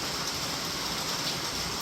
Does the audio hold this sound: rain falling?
yes